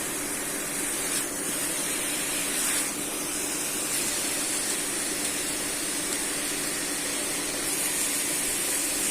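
A constant sizzling hiss of potatoes frying in a pan fills the whole stretch, steady and even without breaks.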